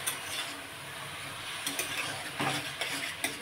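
Raw tomato, spices and chili hit a pan for Bengali chochchori with lau shak: a faint, close sizzle runs throughout, broken by a few light stirring scrapes and clinks.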